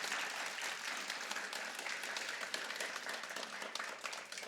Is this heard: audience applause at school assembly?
yes